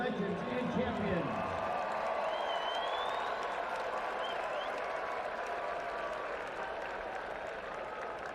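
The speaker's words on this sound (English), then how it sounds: "Let's have a round of applause for our Georgia Southern cheerleading legends and champions." Large stadium crowd applauding and cheering for Georgia Southern cheerleading legends and champions at a college football game, a broad steady roar of clapping and voices sustained throughout, with loud cheers near the start.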